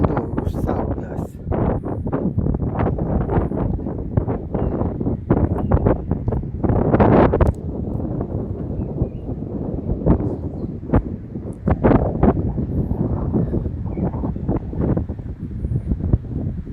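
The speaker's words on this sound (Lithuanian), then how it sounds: "Vėjas didelis, nekoks video gausis." Strong wind buffeting an outdoor microphone in hilly terrain, loud irregular gusts and rumbling bursts that continue from start to finish.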